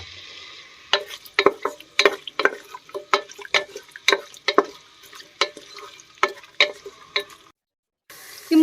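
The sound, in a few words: onions frying in oil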